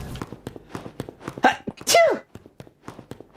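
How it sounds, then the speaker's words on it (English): One close, loud sneeze bursts out amid bits of a person's own chatter, with a sharp intake before it and talk resuming right after. "I just sneezed."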